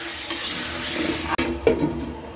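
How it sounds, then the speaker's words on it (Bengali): Potatoes fry in a pan with salt and turmeric, a soft continuous sizzle broken by a few close scraping stirs and a utensil knock against the pan. "সামান্য একটু লবণ আর 1/2 চামচের তো কম হলুদের গুঁড়া দিয়ে আলুগুলো আমি ভেজে নেব"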